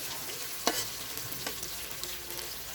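Magur catfish fries in a pan during cooking, a steady hissing sizzle with one sharp pop early on and faint scattered crackles, close and even.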